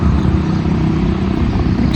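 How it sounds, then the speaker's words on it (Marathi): Auto rickshaws running in street traffic near a Mumbai dried fish market, a dense, loud rumble of small engines and passing vehicles that continues throughout, close by. "रिक्षा वगैरे चालूच आहेत."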